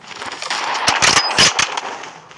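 Rapid bursts of video game gunfire from a Minecraft gun mod, loud and close, rattle in a dense automatic stream with sharper cracks in the middle.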